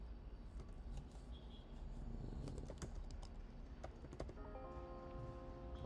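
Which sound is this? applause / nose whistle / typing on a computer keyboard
typing on a computer keyboard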